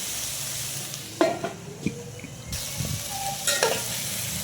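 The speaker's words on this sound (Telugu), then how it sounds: "ఒక 2 నుండి 3 నిమిషాల వరకు అయితే మీడియం ఫ్లేమ్లో వేయించుకోవాలి." Vegetables for veg biryani fry over medium flame in a steady sizzle, with several distinct clanks and scrapes of a spoon stirring against the pan.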